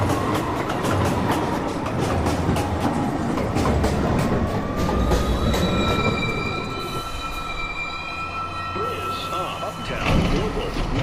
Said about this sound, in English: Downtown, local 1 train. Approaching the station, please stand away.